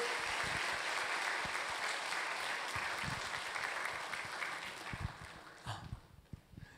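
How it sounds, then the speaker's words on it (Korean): A church revival congregation applauding to welcome a missionary preacher, with dense, steady clapping filling the hall and thinning out toward the end. "나오실 때 여러분 큰 박수로 맞아 주시기 바랍니다"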